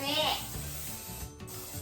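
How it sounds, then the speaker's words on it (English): Cooking spray hissing from an aerosol can as it coats a cake pan for a gluten- and dairy-free funfetti cake, a close, steady spray running the full length under light kitchen background noise. "if you coat it nicely with cooking spray, it won't stick when you take it out"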